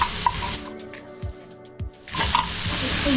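Tomatoes dropped into a hot pan of frying onions and stirred, giving a loud, close sizzle that dips to a quieter stretch with a few scrapes before the frying hiss swells again.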